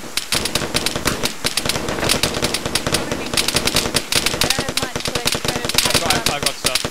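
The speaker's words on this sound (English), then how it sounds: "Careful, we're taking rounds in that direction." Sustained automatic weapons fire from the Arma 3 military shooter game rattles in dense, rapid bursts, with overlapping shots from several guns near and far, running almost without pause for several seconds.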